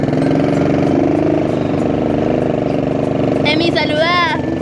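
Quad bike engine running close by and pulling at a steady drone, with a rising accelerating note toward the end and a voice speaking briefly over it.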